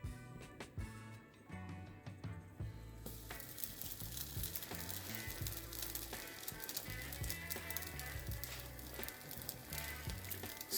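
Batter-soaked French toast bread drops into a hot frying pan and sizzles steadily, with crackling spatters and a few clatters over a loud, continuous hiss.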